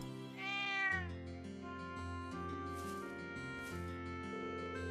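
A cat meows in the video game Trails of Cold Steel 2, one clear rising-and-falling call near the start, set over steady game music that continues throughout.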